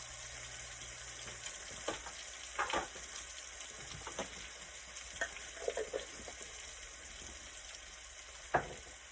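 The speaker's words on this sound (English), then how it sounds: "now we'll go ahead and throw our garlic in there" Garlic frying in a pan for honey garlic salmon, a soft steady sizzle with occasional stirring scrapes and light clinks, fairly quiet and without talk.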